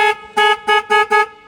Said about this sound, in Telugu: ఒక పాత హారన్ ఒక కొత్త హారన్ పెడితే ఎట్లా వస్తుంది కూడా.